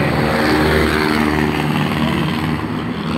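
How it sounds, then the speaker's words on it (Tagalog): Steady traffic roar of motorists passing along Commonwealth Avenue, a dense, continuous rumble of engines close by with no pauses and no talking. "Grabe yung mga dumadaan ng mga motorista dito banda."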